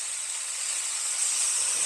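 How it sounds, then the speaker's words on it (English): Vegetables sizzling in bacon grease while cooking a New Orleans style ramyun, a steady close hiss of frying with no talk. "I'm going to fry it all up."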